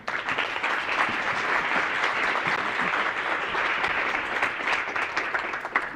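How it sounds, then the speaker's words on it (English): Sustained applause from a business summit audience, a steady, dense wash of many hands clapping that stays loud and even for the full stretch with no talking over it. "how about another big round of applause"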